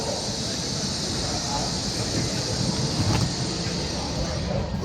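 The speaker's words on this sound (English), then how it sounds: "So in this train, this is a fast train I'm taking." Steady, loud broadband rumble and hiss heard from inside a fast train on a ride through Yanbian in China, continuous without a break.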